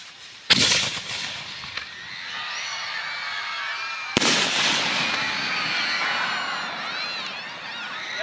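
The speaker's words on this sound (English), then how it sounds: "We're going to light one shell, and then we wait 2 minutes, and then we go." Fireworks shells launched at a country club display, two sharp close bursts a few seconds apart, each followed by whistling, crackling trails that fade slowly, with no talk.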